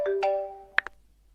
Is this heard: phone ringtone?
yes